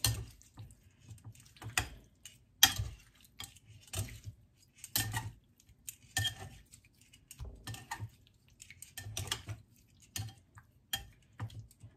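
Seasoned shrimp stirred in a bowl makes soft, irregular clinks and scrapes that come and go close by, with quiet gaps between them.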